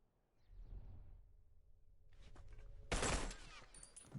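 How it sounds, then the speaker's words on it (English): Burst gunfire in The Last of Us multiplayer esports match, a sudden loud crackling volley erupting after quieter low rumble and faint ambient game noise. "Burst shots on Rodrigo."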